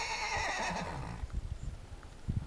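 A horse on a small farm neighs in a long, shaky whinny, followed by a few soft thuds of hooves; quiet and somewhat distant.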